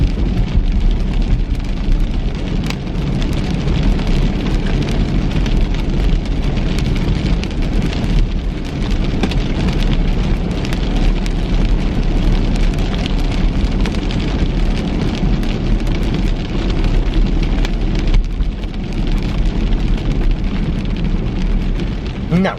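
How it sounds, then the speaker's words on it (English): Steady rain pours down loud and close, an unbroken hiss of drops pattering on surfaces with a low rumble beneath, continuing without pause and with no voices. "Isn't that rain pretty?"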